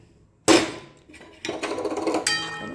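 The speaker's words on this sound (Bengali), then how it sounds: "আর দেখো মাছগুলো আমি এর মধ্যে ঢেলে দিলাম।" Fish pieces dropped into boiling gravy in a pan, a sudden loud clattering splash followed by bubbling and a few light metallic clinks, close up with no talk.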